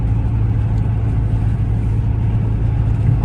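A 5.7L Dodge Charger R/T V8 drones steadily from inside the cabin, a loud, constant low engine rumble with no clear shift or rev change.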